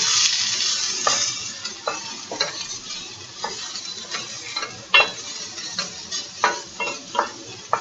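Mushrooms sizzle in grapeseed oil in a pan for an omelette, a steady frying hiss broken by repeated spatula scrapes and taps, close and fairly loud, with no talking.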